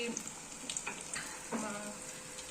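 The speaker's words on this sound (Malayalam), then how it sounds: "പഴം നൈസായിട്ട് കട്ട് ചെയ്ത് വെച്ചത് കോട്ട് ചെയ്ത് ഇങ്ങനെ ഇടുന്നു." Thin banana slices coated in a flour, rice-flour, sesame and cumin batter sizzle and crackle steadily in hot oil, with light scattered pops and a few soft clinks. The sound is close and moderately quiet.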